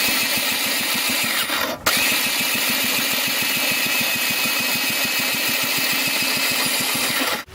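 A JetSurf motorized surfboard's small engine turns over steadily with fuel running through it, fast, regular pulsing, loud and close, with a brief mechanical clunk partway through.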